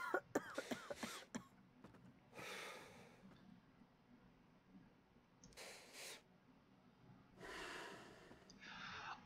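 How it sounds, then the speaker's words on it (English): A man in a Gandalf role at a Hobbit-themed storytelling contest coughs and clears his throat in several short, harsh bursts spread between quiet pauses, close and fairly clear. "He coughs, clears his throat"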